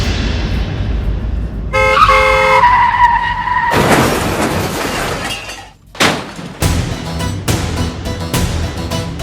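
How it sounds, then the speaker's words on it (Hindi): A car skids with a high tire screech, then crashes into another car with a loud impact and breaking glass, followed by several sharp crunching hits and rattling debris. "आपने मेरी गाड़ी ठोक दी"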